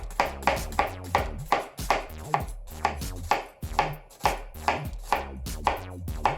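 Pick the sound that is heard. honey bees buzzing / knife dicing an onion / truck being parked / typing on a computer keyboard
knife dicing an onion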